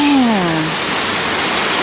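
Rushing water from a Tennessee waterfall makes a steady, loud broadband roar, with a short falling voice-like tone at the start.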